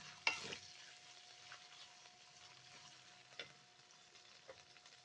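Chicken pieces frying in a pan for chilli chicken give a soft, steady sizzle, with a few stirring scrapes and clinks scattered through, all faint and with no talking.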